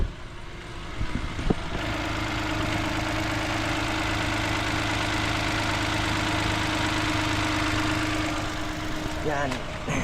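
A car engine idles steadily while warming up after a fix for a ticking noise and a starting problem, a smooth continuous mid-low hum that holds for several seconds before a few clattering handling noises at the end.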